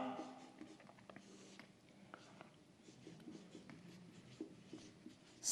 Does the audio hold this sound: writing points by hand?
yes